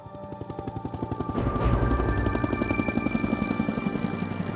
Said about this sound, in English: The choppers were turning around in moves.